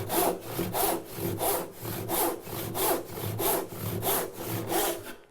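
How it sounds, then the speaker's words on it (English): A hand saw rips small wood stock along a cut line in even back-and-forth strokes, about ten rasping passes at a steady rhythm, close and alone. "drop my saw into the kerf again, and I work down the cut line"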